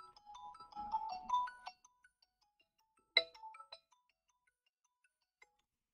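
A phone ringtone plays a short melodic phrase for under two seconds, followed by a brief sharper electronic chirp and a few faint blips before the call is picked up.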